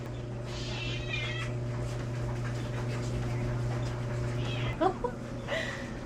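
Cats meow at a yearly checkup during a group camping trip, several short cries scattered across the stretch over a steady background hum, with soft voices nearby.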